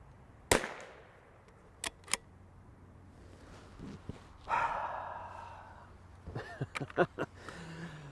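Savage B22 rimfire rifle firing CCI standard velocity ammunition during group shooting: a sharp near shot, then a couple of quick cracks a second later, with scattered handling clatter and a brief voice between them.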